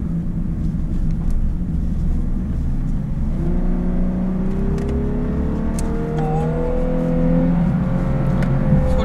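A Lexus LC500h engine drones from inside the cabin in Sport Plus mode, its pitch rising steadily as the car accelerates, with road and wind noise underneath.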